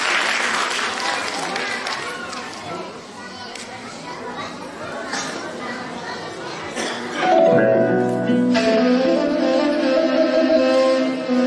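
An audience at a kindergarten end-of-year show claps and chatters in a busy hall, the applause mixed with voices and children's noise, before music begins and continues under the crowd.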